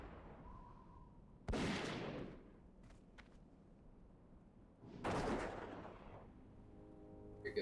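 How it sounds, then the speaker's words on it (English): Two loud rifle shots from a hunter in the World of Warcraft video game, spaced a few seconds apart, each a sharp crack with a booming tail, over quiet game ambience and faint chimes. "This is a proper rifle sound."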